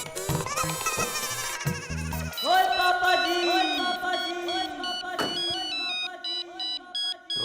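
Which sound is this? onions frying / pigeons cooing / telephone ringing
telephone ringing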